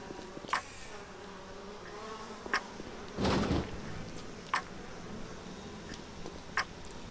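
Bees buzzing in the shooter game Bioshock, a faint steady insect drone broken by short sharp ticks and one thicker burst of noise near the middle, with no voices.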